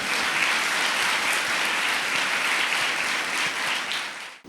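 A church congregation claps loudly and steadily for parents and their children, a dense, sustained wash of applause that fills the room for several seconds before cutting off abruptly.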